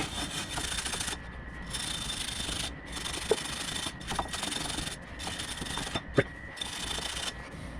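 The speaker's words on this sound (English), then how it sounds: "Now I'm going to take an ordinary wire brush and clean up the rest of it." A hand wire brush scrubs rear brake parts on a Nissan Rogue in steady rasping strokes, close and fairly loud, broken by brief pauses and a few sharp metallic ticks.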